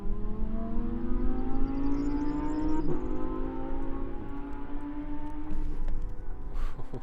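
A Lamborghini Huracan and a Porsche 911 Turbo accelerate hard in a drag race, engines climbing steadily in pitch with a gear change partway through, loud and continuous over rushing wind noise.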